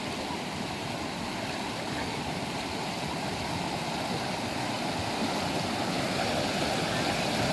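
Water rushing below Manchinabele dam, a dense broadband roar that stays loud and even throughout, with no breaks and no speech on top.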